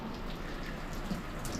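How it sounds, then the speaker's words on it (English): Steady wash of rain and gusting wind during a storm in Nova Scotia, a dense, even hiss with scattered drops, no voices. "the wind and the rain is really starting to pick up out here now"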